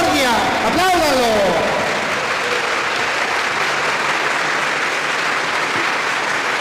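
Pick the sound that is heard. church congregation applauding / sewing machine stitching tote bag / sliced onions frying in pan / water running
church congregation applauding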